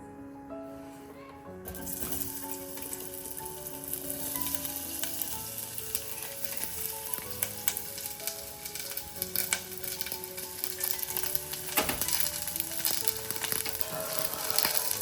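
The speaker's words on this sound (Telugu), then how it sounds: "ఇప్పుడు ఆనియన్స్ కట్ చేసి పెట్టుకున్నాను కదా, ఇవి ఆయిల్ వేసేసుకుందాము." Chopped onions sizzle loudly in hot oil in a pan for an ivy gourd and onion masala, a dense continuous hiss with stirring clatter, under background music.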